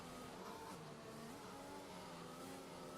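A race car in a racing video game drones with a steady engine note that rises and dips slightly as it accelerates and brakes, faint and continuous with no voices.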